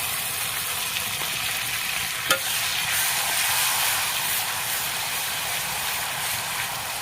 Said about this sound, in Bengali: তেলটাকে গরম করে নিয়েছি, এখানে দিয়ে দেবো পেঁয়াজ, এখানে দিয়ে দেবো রসুন পেস্ট